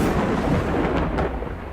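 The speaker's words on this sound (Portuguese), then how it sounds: "quase sem precedentes do Papa Bento XVI, o céu se abriu e um relâmpago violento atingiu a cúpula da Basílica de São Pedro." Thunder from a lightning strike on the dome of St. Peter's Basilica in Vatican City, a loud, deep rumbling roll that fills the whole stretch with no voices.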